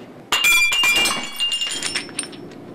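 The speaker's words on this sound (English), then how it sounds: "The glass just breaking." Glass breaks with a sudden loud smash, then several more clinks and crunches as pieces hit and scatter, trailing off into a few faint tinkles, with no talking.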